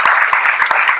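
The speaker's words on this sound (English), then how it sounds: "you can clap for that" An audience breaks into applause, a dense steady patter of many hands clapping, loud and close, lasting only a moment.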